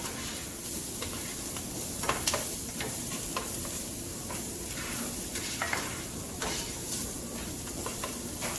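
Food browning in a pan while being stirred for a simple pantry survival meal, a constant close sizzle with scraping utensil strokes repeating throughout.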